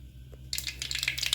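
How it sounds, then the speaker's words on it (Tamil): Mustard seeds crackle and pop in hot oil in a clay pot on a stove. After a brief quiet start, a dense burst of close sizzling pops begins and carries on to the end, with no talking. "நான் மண் சட்டி அடுப்பில் வச்சு எண்ணெய் ஊற்றி வச்சுருக்கேன் கொஞ்சம் கடுகு தாளிச்சுக்கலாம்"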